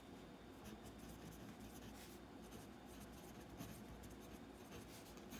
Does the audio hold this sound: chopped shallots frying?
no